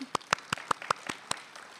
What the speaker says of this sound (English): How about a quick round of applause for that accomplishment?